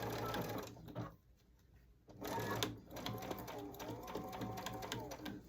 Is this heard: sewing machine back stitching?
yes